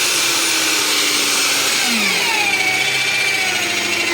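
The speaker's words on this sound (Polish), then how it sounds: "gąbka się kręci, te obroty można zrobić większe czy mniejsze, jak Wam wygodnie" A polishing machine spins a sponge pad against a car headlamp lens, giving a loud, steady whirring drone throughout with a slight shift in pitch partway through.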